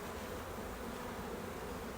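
Honeybees hum softly and continuously around a hive frame, a faint, even buzzing drone with no voices.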